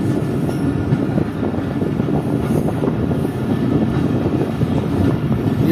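Chaman passenger train pulls in toward Yaru railway station, a steady close rumble of carriages and rails with faint clatter, no voices.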